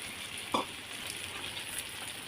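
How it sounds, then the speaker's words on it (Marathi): Pieces of taro (arbi) frying in oil in a pan, a soft, steady sizzle with one brief knock of a utensil early on, fairly quiet and close. "आता याला मी फ्राय करून घेते."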